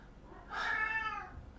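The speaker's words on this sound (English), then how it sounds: "Your cat wants attention?" A single cat meows once, drawn out and fairly faint, over quiet background noise with no talking.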